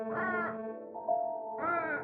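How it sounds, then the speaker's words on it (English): Blackbirds calling in a 1964 comedy film scene, with a few drawn-out harmonic cries in succession, clear and moderately close with no talk over them. "The blackbirds"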